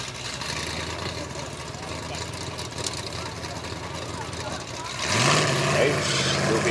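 Formula Offroad race truck 'The Terminator', driven by Jason Grzesikowski, tested on flat ground: a steady engine rumble, then a louder rev that climbs sharply in pitch near the end.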